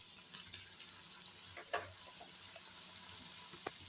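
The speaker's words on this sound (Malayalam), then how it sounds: "നോക്കി ബാക്കിയും കൂടെ കുറച്ച് ഇട്ടു. ഫ്രൈ ചെയ്തെടുക്കാം." Okra (ladies finger) fries in hot oil, a soft, steady sizzle with a few faint crackles and light clicks of a utensil now and then, close by and fairly quiet, with no talking.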